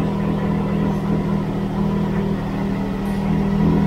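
A Can-Am Maverick X3 side-by-side engine fitted with an Evolution Powersports cat delete exhaust idles steadily, a low, even drone close by with no talking over it.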